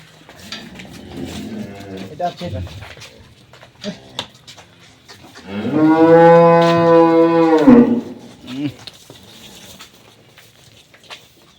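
A dairy cow with calf at an agro farm gives one long, loud, drawn-out moo midway through, set against background farm noise and scattered sounds.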